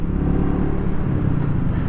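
A Royal Enfield Meteor 350 motorcycle engine hums at a relaxed cruising pace while riding, a close, steady low thump with road rumble and no talk.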